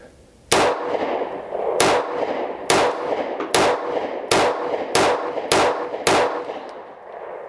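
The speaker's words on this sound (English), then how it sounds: "we'll go ahead and give it 8 kind of rapid fire shots center mass" A Bersa TPR9C compact alloy-frame 9mm pistol fires eight sharp shots in quick succession, loud, close and evenly spaced at under a second apart, each crack ringing briefly before the next.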